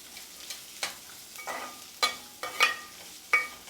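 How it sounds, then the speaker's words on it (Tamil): Onions sizzle softly in a pan for South Indian beans poriyal while a utensil stirs and scrapes in several short strokes, with no talking. "இப்போ நல்லா வதக்க போகிறேன்."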